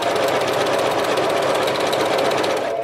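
A sewing machine stitches a 3D bow tie quilt block, its needle hammering in a fast, even mechanical chatter that stays loud and close for a few seconds before cutting off.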